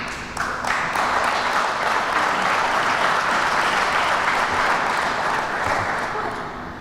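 Applause from an audience at a city neighborhood strategy event, many hands clapping steadily and loudly for several seconds before tapering slightly at the end.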